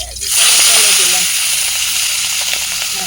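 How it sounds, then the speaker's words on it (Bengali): A fish head coated in turmeric and salt drops into hot oil in a wok and sets off a sudden loud hiss. The sizzle stays strong and steady, then eases slightly. "তেল দিলাম, দিয়ে মাথাটিকে ভালো করে ভেজে নেব।"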